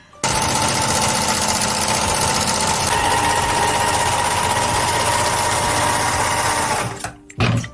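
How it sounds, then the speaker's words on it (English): A serger runs continuously, stitching pieces of chiffon into a tube: a loud, fast, even mechanical whir for about seven seconds that stops abruptly, followed by a short rattle. "So I'm going to use my serger"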